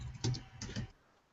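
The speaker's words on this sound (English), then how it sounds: "just start typing line number" Keystrokes on a computer keyboard come in two quick clusters of clicks and taps, close and fairly soft, then fade into quiet room tone.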